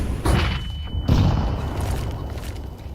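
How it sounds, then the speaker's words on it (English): A grenade explodes in Counter-Strike, a heavy booming thud followed by a second deep impact and a rumbling tail, loud and close. "Throwing fire. Grenade."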